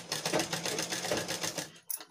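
A sewing machine stitching around the edge of blouse fabric, with a quick, even run of mechanical needle clatter close by that stops abruptly near the end.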